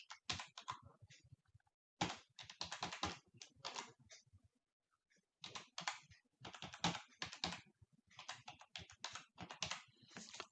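Someone types an email address on a computer keyboard, quick bursts of crisp, close key clicks broken by short pauses, quiet and alone.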